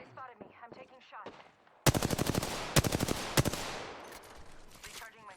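Rapid automatic gunfire in the video game Apex Legends bursts in suddenly, loud and close, with sharp repeated shots and longer volleys, after a stretch of talk.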